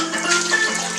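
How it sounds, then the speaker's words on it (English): A cup of water is poured into a pot of rice and pigeon peas, a brief continuous splashing gush lasting about a second. "I'm going to put a cup of water,"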